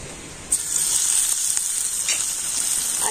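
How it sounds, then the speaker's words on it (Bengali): Sliced onion drops into hot oil in a frying pan, setting off a sudden loud sizzle that continues as a steady bright hiss with occasional crackles. "আর তেলের মধ্যে দিয়ে দেব পেঁয়াজ"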